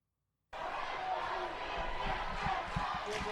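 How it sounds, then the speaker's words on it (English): A football crowd cheers inside a field house, a sustained roar rising suddenly after a brief silence and staying loud, with scattered thumps underneath. "the crowd on its feet, the crowd rolling inside the field house"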